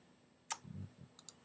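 Computer mouse clicks while working on a chart, a sharp close click followed by a soft thump, then two quick faint clicks near the end in a quiet room.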